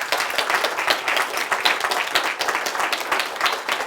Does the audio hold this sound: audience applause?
yes